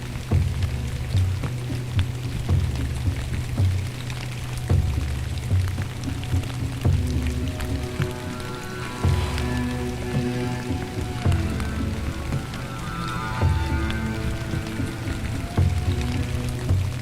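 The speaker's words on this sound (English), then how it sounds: "The morning rains persist" Steady morning rain falling in Iowa woods around a deer-hunting tree stand, pattering constantly on leaves and surfaces at an even, moderate level, with no voices.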